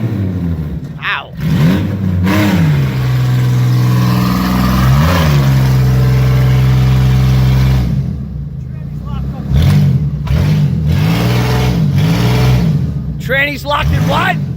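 A neglected all-wheel-drive Chrysler Pacifica with a failing transmission revs repeatedly in rising and falling bursts, loud and close, while people talk over it.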